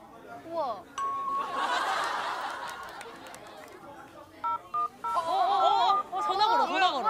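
A telephone keypad is dialed, with a few short beeping tones near the end, amid lively group chatter and laughter on a stage.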